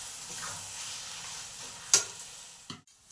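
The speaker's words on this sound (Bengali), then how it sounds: "দেখুন মশলাটা কষা হয়ে গেছে, অনেকটাই দেখুন গন্ধ উঠছে।" Spice masala for mutton frying in a kadai, a soft steady sizzle with a sharp scrape of stirring partway through and a clatter near the end.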